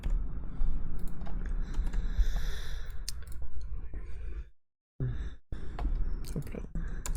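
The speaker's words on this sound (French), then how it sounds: "je vais taper une adresse au hasard" Typing an address on a computer keyboard during an online form-filling lesson, a steady patter of key clicks close by, broken by a brief pause partway through.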